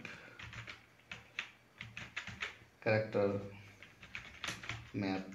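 Rapid clicking of a computer keyboard while entering text in the Windows 10 search box, heard as a close run of keystrokes under a person's speech.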